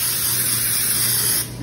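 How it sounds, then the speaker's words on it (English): Cooking spray is sprayed onto a cake pan: a single loud, close, continuous aerosol hiss that holds steady, then cuts off abruptly near the end. "So you wanna remember to spray the pan down."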